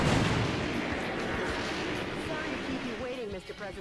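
Giant guns firing in the video game Metal Wolf Chaos XD, a dense rumbling barrage of heavy blasts that stays loud throughout and thins slightly toward the end, with brief tonal game sounds.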